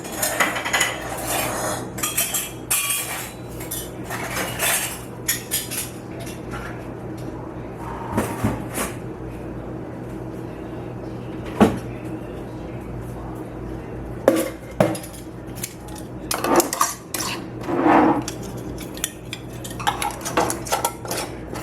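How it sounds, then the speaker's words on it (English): Metal canning rings are placed on glass jars bound for the canner, scattered metallic clinks, taps and scrapes at irregular intervals against a quiet kitchen background, close by, with no talk. "I'm going to just get some rings and put these in my canner"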